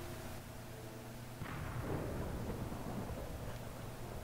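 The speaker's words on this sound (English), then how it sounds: "it creates a lightning bolt where you were and where you're going" A lightning-bolt teleport effect in Minecraft hits with a sudden crackling rumble that swells into a sustained stormy roar over steady background noise.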